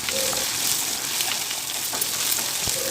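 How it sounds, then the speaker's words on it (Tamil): Shallots and garlic sautéing in oil in a pan, a steady bright sizzle and crackle with faint stirring scrapes, close and continuous without talk. "சின்ன வெங்காயம் ஐம்பது கிராம் பூண்டு பொடி ஒரு பதினஞ்சு சேர்த்து நல்லா வதக்கி விட்டுறலாம்"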